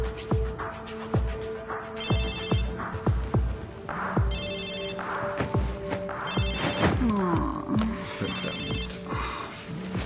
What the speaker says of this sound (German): Was ist das scheiß Telefon?